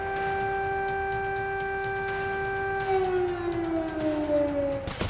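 A steady wailing air raid alert siren in Belgorod holds a long tone, then slowly winds down in pitch, loud and unbroken with no voices.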